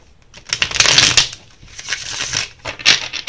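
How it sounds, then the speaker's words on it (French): Tarot cards being handled and a card drawn from the deck, with close, irregular bursts of crisp papery shuffling and sliding that rise and fall, alone without talk. "Je sortais une dernière carte comme ça."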